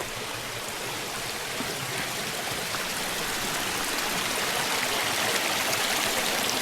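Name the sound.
stream of water flowing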